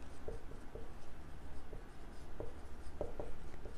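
Light, close scratching of a pen writing on paper during a geometry lesson, with a few brief stroke sounds spread across a soft steady background and no voices.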